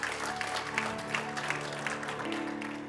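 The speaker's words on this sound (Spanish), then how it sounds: "Denle un aplauso fuerte al Señor" Congregation at a Spanish-language Christian church service applauds, a dense steady wash of clapping throughout, with music tones sustained underneath.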